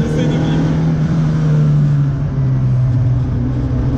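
A Peugeot 205 GTI engine runs with a loud, steady low drone and a slight dip in pitch as the throttle is worked, heard from close inside the car.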